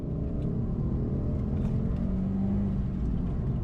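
A turbocharged car pulls hard through second gear, its engine droning in a steady loud rumble that rises slightly as it accelerates, heard from inside with no talk.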